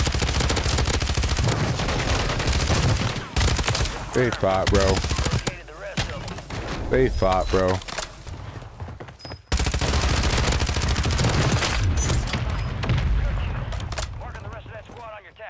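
Automatic gunfire rattles through a Warzone match in long, loud bursts close by, broken by short pauses, while a player talks over the shooting.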